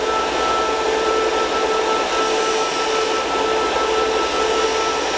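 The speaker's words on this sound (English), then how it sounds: "The polisher motor will do a nice job of rounding off the corners." A polisher motor whirs steadily while rounding off a silver earring post, a continuous broadband hum with a faint tonal whine and no talking.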